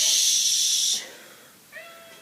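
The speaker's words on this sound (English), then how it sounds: "he's meowing at the wall." A cat hisses and meows at a wall indoors: a long breathy hiss, then a short faint meow after a pause.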